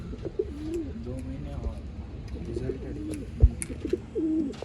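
Pigeons coo repeatedly in soft, throaty phrases nearby, with faint chirps and a few light knocks in the background and no talking.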